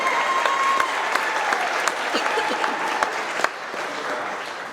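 A crowd at a trucking company's monthly employee service-award celebration applauds steadily, a sustained wash of clapping with a few sharper, louder claps standing out near the middle.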